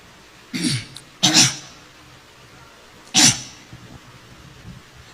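A man sniffs sharply through his nose in three short, separate bursts, close up, with quiet gaps between them and no speech.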